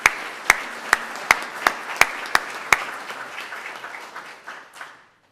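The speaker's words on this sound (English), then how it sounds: "Please give them a round of applause." A small audience at a club foundation celebration gives a round of applause, sharp distinct claps in a steady rhythm at first, then thinning into scattered softer clapping that fades out.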